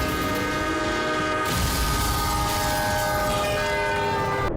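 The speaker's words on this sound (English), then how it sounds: "parking right on the tracks, only to be obliterated by a train" A train roars past a level crossing, its horn blaring in long sustained blasts over heavy rumbling rail noise that swells loudly after the first second and carries on without a break.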